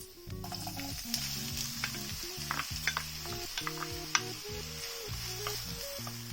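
Diced onions fry in a pan with a steady close sizzle and crackle, punctuated by a few stirring scrapes, with a low mechanical hum running underneath.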